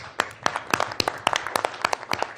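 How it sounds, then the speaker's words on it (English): Applause from a conference audience at the Munich Security Conference, with dense, crisp hand claps crackling steadily and close by for a couple of seconds, no talking over it. "I want to give a round of applause to With Honor"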